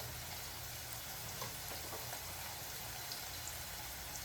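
Chopped chillies frying in a hot pan for a mixed vegetable dish give a faint, steady hiss of sizzling oil that continues evenly and quietly throughout, with no talking.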